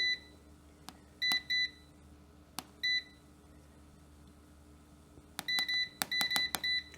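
A Cosori air fryer's touch control panel is set for temperature, giving short, clear electronic beeps, single and in quick double or triple groups, closer together toward the end, in a quiet room.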